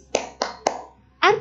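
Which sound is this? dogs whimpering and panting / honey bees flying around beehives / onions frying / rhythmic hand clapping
rhythmic hand clapping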